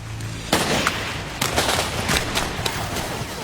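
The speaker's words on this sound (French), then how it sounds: "L'éclaireur Howard Van Osdale tire le premier coup de feu." Gunfire bursts out in a WWII raid reenactment: sharp, loud shots crack one after another in an irregular volley, echoing with no voices.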